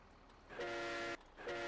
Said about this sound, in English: I'm going to make my own train horn.